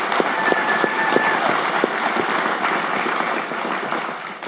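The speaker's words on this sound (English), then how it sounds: "Round of applause." An audience at an interview event applauds, a dense wash of many hands clapping at moderate distance, steady and then tapering slightly toward the end.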